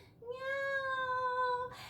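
A sung voice imitates a cat's meow in a children's song, one drawn-out, wavering tone held for more than a second, close and clear with no accompaniment.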